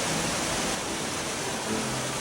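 Snowmelt streams running down Lebanon's cedar-covered mountains, a broad, steady rush of flowing water filling the whole space without pause, fairly soft and even throughout.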